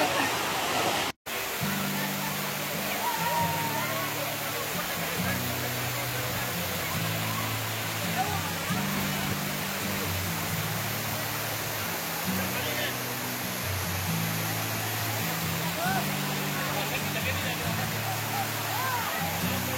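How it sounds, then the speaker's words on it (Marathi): Bhaje waterfall near Lonavala pours with a steady, broad rushing roar that never lets up, while faint stepped musical tones run underneath. "लेणी पाहून परत धबधब्यापाशी आलेलो आहे."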